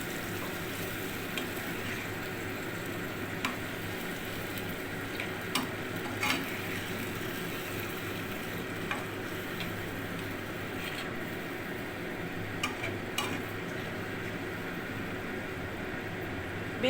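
Chicken stirred in a pan with hot water, a steady broad sizzle running throughout with occasional soft scrapes and clicks of the spoon against the pan, fairly close and even in level.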